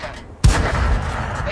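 A single sharp ricochet impact of a shell glancing off tank armor in a tank video game (SU-85B), a loud close bang with a rumbling tail that lingers into steady engine-like noise.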